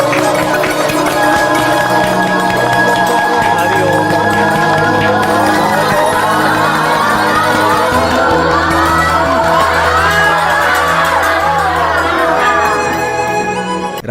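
A group claps hands in unison while chanting om, a loud, dense crowd sound of rhythmic clapping blended with sustained massed voices, close and continuous throughout.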